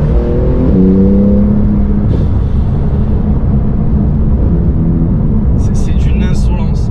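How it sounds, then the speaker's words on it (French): A Porsche 991 GT2 RS accelerates hard from inside the cabin, its engine a loud steady roar with rising pitch through a gear change, while someone talks over it. "On écrase l'accélérateur, elle tombe 3-4 rapports et elle vous propulse"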